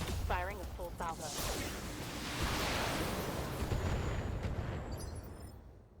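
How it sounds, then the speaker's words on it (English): A mech in the BattleTech video game unleashes a full weapons salvo, a loud, sustained roar of overlapping blasts and explosive bursts that fades toward the end, with a brief vocal sound at the start. "open up with everything that we've got. Firing a full salvo."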